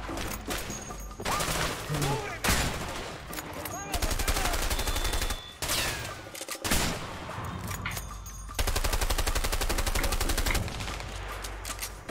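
Gunfire in the mobile battle royale game PUBG Mobile, with loud sustained bursts of automatic fire and rapid volleys broken by brief gaps, dense and close throughout.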